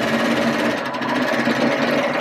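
A serger sews a long continuous seam on fabric for bowl cozies, giving a steady, loud, close mechanical whir with a fast rattling hum that runs unbroken the whole time.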